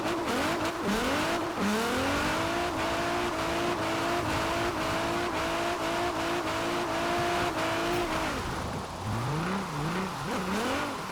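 A 1000-horsepower Nissan Pulsar GTi-R in Forza Horizon 4 drives in the rain, its engine revving hard and climbing through gears, then dropping and rising again with tire noise, loud and close throughout.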